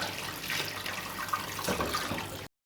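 Sorrel being rinsed under a running tap in a sink, a steady broadband wash of water that continues for about two and a half seconds, then cuts off abruptly.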